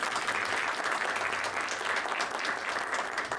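A conference audience claps steadily in a dense, sustained round of applause filling the room, with no pauses or voices standing out.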